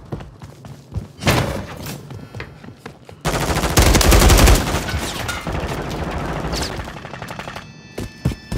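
Loud bursts of automatic gunfire and thudding impacts in the battle-royale shooter Call of Duty: Warzone, coming in short separate volleys and then a longer sustained burst, with a few sharp single shots near the end.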